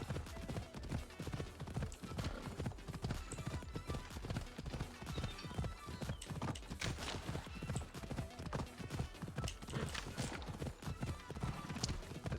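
Hooves of a winged horse clip-clop in a rapid, steady galloping rhythm while riding across the world of Assassin's Creed Odyssey, loud and continuous throughout with game ambience underneath.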